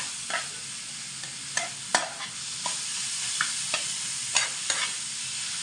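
Vegetables for vegetable chops sizzle steadily in a hot pan while a utensil scrapes and stirs in short, irregular strokes, close up with no talking.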